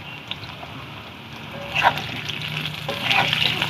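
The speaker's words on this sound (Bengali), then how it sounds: "নেড়ে চেড়ে আলুগুলো ভেজে নেব ভালো করে।" Potatoes frying in oil with salt and turmeric in a pan for a rui fish curry, a continuous close sizzle with scraping stirs that grows louder toward the end, no talk.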